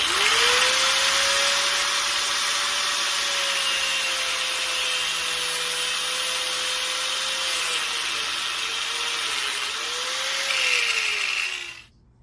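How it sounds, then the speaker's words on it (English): A cutoff wheel slices through braided AN fuel line with a loud, steady grinding hiss and a wavering high whine that keeps going for about twelve seconds, then stops abruptly. "I'm just going to use cutoff wheel. It makes a nice clean cut."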